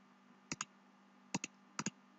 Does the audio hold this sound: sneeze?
no